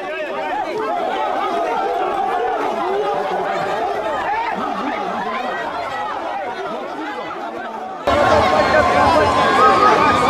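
A crowd in a Bangui neighbourhood chatters and murmurs continuously, with scattered voices and occasional laughter forming a dense babble, and the noise jumps louder near the end.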